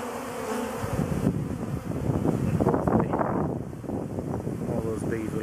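A swarm of honey bees buzzes around a temporary hive entrance after collection with a home-made bee vac, a dense steady hum with light wind noise and occasional speech over it.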